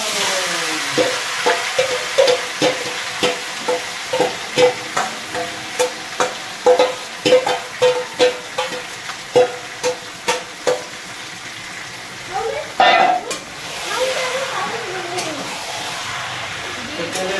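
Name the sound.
meat frying with whole and dry spices in a pan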